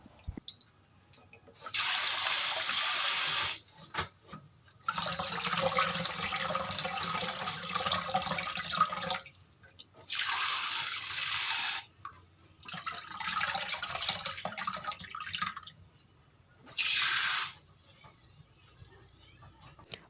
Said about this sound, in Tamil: நல்லா அரிச்சு இந்த மாதிரி நல்லா கழுவி 2-3 முறை கழுவி எடுத்துக்கோங்க